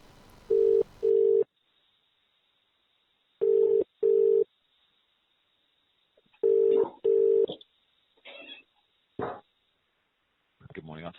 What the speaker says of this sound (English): play the recording of a phone call that I made